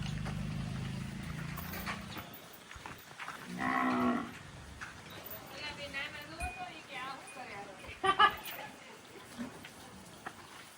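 Cattle in a village cow shed moo several times, low calls rising through the clip with a loud bellow near the start and more near the end, while people talk nearby.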